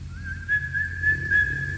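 A single sustained human whistle in the game Kenshi, drawn out as one steady near tone over a low background rumble, no speech.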